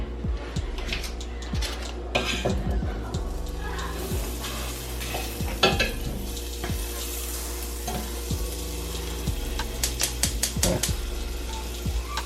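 Butter sizzling in a hot pan while making beef stroganoff, a steady fry under frequent metallic clinks and scrapes of utensils against the pan, with a low hum beneath and no talk.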